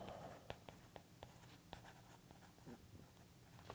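Pen handwriting a name on paper, faint close scratching strokes with short taps and pauses, quiet throughout.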